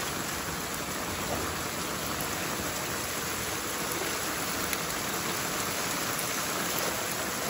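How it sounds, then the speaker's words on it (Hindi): Water rushing fast through a drain channel, a steady dense roar like heavy rain that holds at the same loudness throughout with no pauses. "अब यह है कि पानी जा रहा धड़ाधड़"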